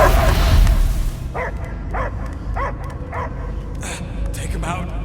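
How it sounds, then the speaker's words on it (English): A dog barks repeatedly in a Marvel's Guardians of the Galaxy video game scene, a series of evenly spaced yelping bow-wows over a low game score, with speech at the very start. "I hear only barking."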